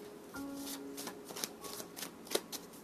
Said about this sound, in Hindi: I will pull more cards from this deck, यहाँ से कुछ और कार्ड्स लेते हैं।